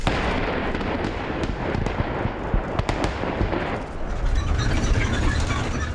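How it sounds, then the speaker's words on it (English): A rapid series of sharp demolition blasts and cracks crackles through a rumbling background, several bursts close together, loud and distant-sounding, without speech. "With each powerful explosion, the earth shakes."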